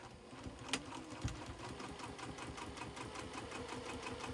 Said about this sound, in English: And then I'm going to sew this side.